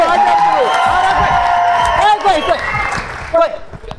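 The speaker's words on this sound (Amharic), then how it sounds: "እስቲ ሞቅ ያለ ጭብጨባ" Studio audience at an Ethiopian TV talk show clapping and cheering with whoops, loud at first and then easing off, mixed with overlapping voices and shouting.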